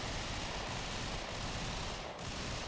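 Rapid gunfire in a shooting video game, a dense continuous burst of shots that blends into a constant roar with little space between them, loud and close, with no talking.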